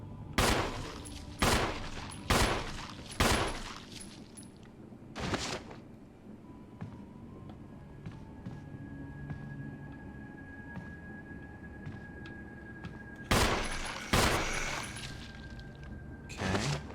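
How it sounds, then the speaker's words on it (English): Gunshots fired at a zombie in the Resident Evil 1 video game: several sharp, loud bursts in quick succession, a pause with a single shot, then another cluster of blasts over a low game ambience. "So I'm gonna see if I can shoot him."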